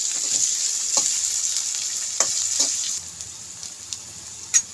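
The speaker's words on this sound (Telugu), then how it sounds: "ఉల్లిపాయలు, పచ్చిమిర్చి, జీలకర్ర, ఆవాలు వేగుతున్నాయి" Onions, green chillies, cumin and mustard seeds frying in hot oil give a steady bright sizzle with a few sharp crackles and pops, close and continuous, easing slightly toward the end.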